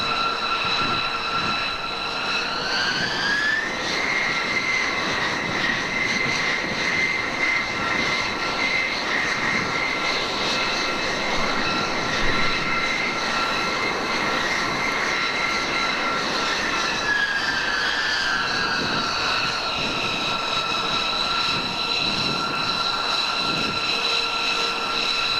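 A stealth bomber flying past, a loud continuous jet engine roar with rising and falling whine, steady and close throughout with no voices.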